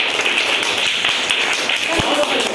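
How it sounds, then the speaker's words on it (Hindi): A classroom of students clapping for a classmate, brief scattered claps at moderate distance with a mixed murmur of voices over them. "चलिए ताली बजाइए इनके लिए"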